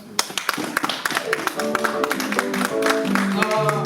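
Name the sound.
congregation clapping in praise in church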